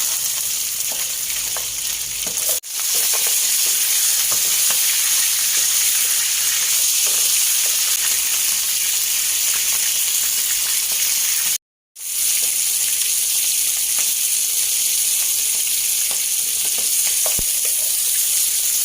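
A pork leg fries in hot oil for braised pork, giving a loud, continuous hissing sizzle close by, with two brief cuts in the sound and a few faint clinks.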